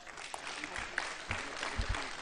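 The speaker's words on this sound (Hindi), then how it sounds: "इसके लिए जोरदार ताली बजाओ।" An audience at an Ayurveda health talk gives a round of applause, soft and somewhat distant, with scattered clap bursts and a voice faintly heard beneath the crowd.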